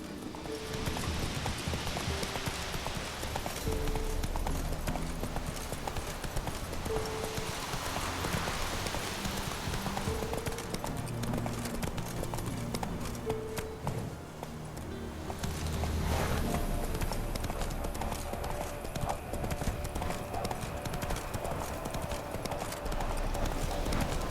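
Roach the horse gallops through the open country of The Witcher 3 video game, a steady rapid clip-clop of hooves running throughout, with brief low voice fragments beneath.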